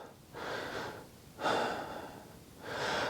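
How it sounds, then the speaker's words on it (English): Three slow, audible breaths in and out during a fitness class cool-down, each a soft airy rush heard up close and alone, spaced about a second apart. "lightly breathing, bringing our heart rate down"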